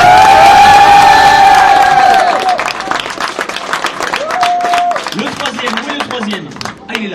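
A crowd at a Street Fighter IV tournament final in Japan applauds and cheers for the finalists, loud at first with whoops and shouts, then thinning into scattered clapping while people talk.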